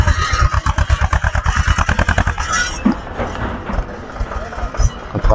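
A tractor hauling tied-on luggage at night on the road toward Kedarnath chugs close by in loud, rapid rhythmic pulses, then drops to a quieter, rougher running hum for the rest.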